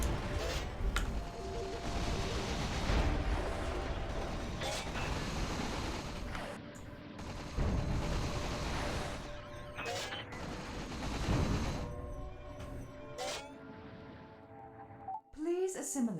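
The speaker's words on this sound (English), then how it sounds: "Wait, was I not supposed to blow them up? Am I supposed to be shooting them?" Ships shooting and blowing up in the space combat game Space Pirates and Zombies 2: dense, continuous bursts of weapon fire and booming explosions, with a quieter gap near the end before a last blast.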